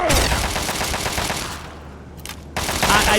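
Rapid automatic gunfire from a gun in Fallout 3: loud, close bursts of quick repeated shots, a short lull, then the firing starts again.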